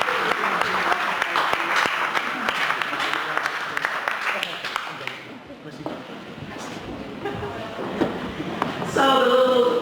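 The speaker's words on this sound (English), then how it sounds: "Please give me one more round of applause for him." Crowd clapping at an art exhibition opening night in Paris, strong at first then thinning into scattered claps and chatter, with a brief louder burst near the end.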